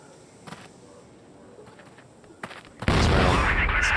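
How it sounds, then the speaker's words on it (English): A frag grenade explodes in the game Crossfire during a tournament match, a sudden loud broadband blast that erupts near the end and stays loud, preceded by quieter ambient game noise and faint scattered pops. "That's a good frag grenade."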